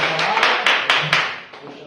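A church congregation claps in praise at the close of a service, a burst of loud, uneven hand claps that thins out and fades over a couple of seconds.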